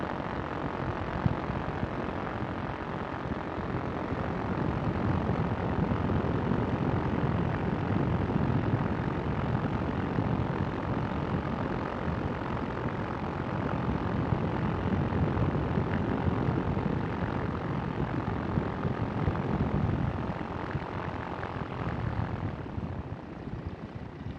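An ultralight aircraft engine holds steady at about 4,000 RPM, a loud, continuous propeller drone with a broad rough roar that stays constant throughout and eases slightly near the end.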